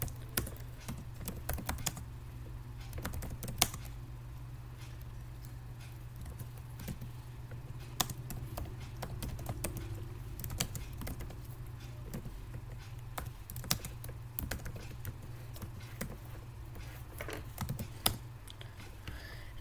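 Keyboard typing while Java code for a merge algorithm is written, a steady run of quiet, irregular key clicks over a low constant hum, with a few louder taps standing out.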